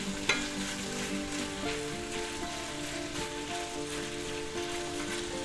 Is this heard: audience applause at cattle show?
no